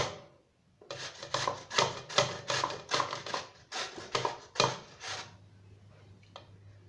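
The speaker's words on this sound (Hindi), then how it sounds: "अब मैं ग्रेटर की मदद से इसको ग्रेट कर लूंगी।" Bottle gourd rubbed against a kitchen grater in a home kitchen, a steady run of about a dozen rhythmic rasping strokes, close and fairly loud, ending with a low hum.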